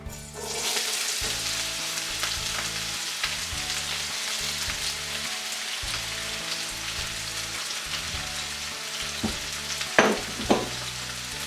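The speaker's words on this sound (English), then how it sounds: "So now we'll start frying our onions." Onions sizzle and crackle steadily in hot oil in a pan while cooking chana masala, with a few clinks of a utensil near the end.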